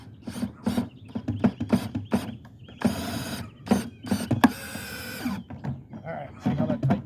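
Metal mailbox fastener being tightened during installation of a double mailbox, a series of short ratcheting clicks and scraping bursts up close with two longer grinding runs, mixed with people talking.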